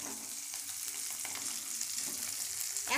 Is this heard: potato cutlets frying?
yes